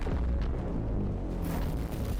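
Massive explosions from the Cataclysm Orbital Cannon in Garry's Mod, a continuous loud rumbling roar of booms and blasts with no talk over it.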